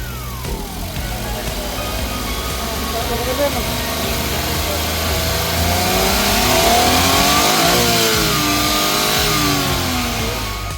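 A car engine revs repeatedly, rising and falling in pitch, loud and close; a voice may be faintly present beneath it.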